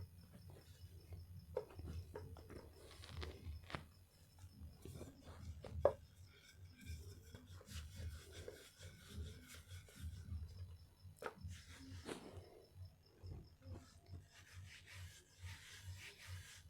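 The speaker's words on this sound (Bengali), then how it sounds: "ফিড়েতে কিছু আটা নিয়ে এটা ভালো করে গোল গোল করে নেব, নিয়ে একটু বেলে নেব" Flour-dusted dough balls rolled out on a wooden board with a rolling pin make soft, repeated rubbing and knocking sounds, quiet and close, in an uneven back-and-forth rhythm.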